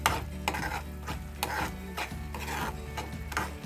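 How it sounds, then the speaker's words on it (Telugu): Prawn and broad bean curry being stirred in a pan, a steady rhythmic scraping and shuffling with soft sizzle beneath, close and moderately quiet, no talking. "ఒకసారి అంతా కలిసేటట్టు కలుపుకోవాలి"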